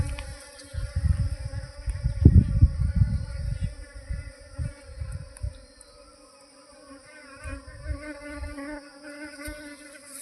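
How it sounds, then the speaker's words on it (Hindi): A honeybee swarm hums continuously as it pours into a basket during swarm capture, with a dense, steady buzzing close by and occasional low thumps of handling. "मधुमक्खी तो टोकरी में घुस गई।"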